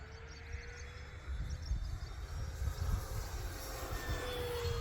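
An E-flite P-47 Razorback RC model plane flies at about half throttle, its motor giving a steady, continuous drone that swells slightly after the first second and then holds at a fairly constant level, with a faint whine above the broadband rush.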